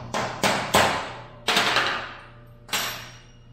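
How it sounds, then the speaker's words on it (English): A hammer smashes a punch to knock out a stud on a 1987 GT Pro freestyle BMX frame, giving five sharp metallic strikes at uneven intervals, each ringing briefly before fading, close and loud. "we're going to smash it as hard as we can with this hammer."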